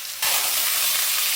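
Potatoes fried with garlic and onion for a Bangladeshi aloo bhaji burst into a loud, steady sizzle as they hit the hot oil, a dense close-up hiss that continues without pause.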